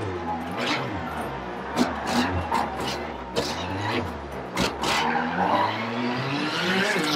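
Rally car tires in WRC 6 skid and squeal through a donut on a Catalunya-Costa Daurada stage, a continuous scrubbing screech over the revving engine, steady and close throughout.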